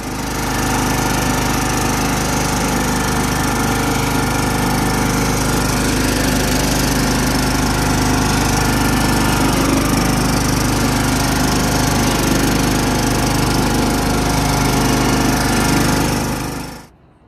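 A John Deere Z225 zero-turn lawn mower drives along with its small engine droning loud, close and steady for about sixteen seconds, then cutting off abruptly at the end, with no talking over it.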